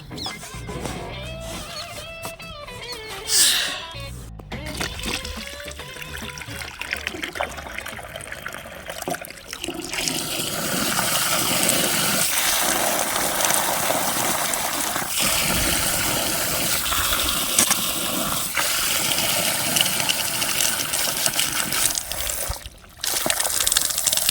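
Water from a motor-driven pump gushes with a steady, loud broadband rush that starts about ten seconds in and runs almost to the end, after an earlier stretch of mixed noise and clatter.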